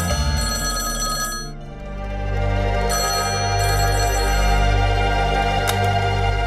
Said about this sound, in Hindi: ये फोन 2 बार बज के बंद हो जाता है